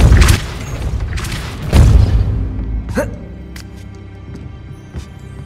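Depulso force spell impacts in Hogwarts Legacy, heard as a couple of heavy booming thumps with rumbling tails, then lighter cracks and debris over a low ambient background.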